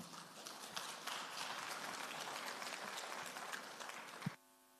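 Applause from a conference audience after a presentation, a dense patter of clapping that holds steady for several seconds and then cuts off abruptly.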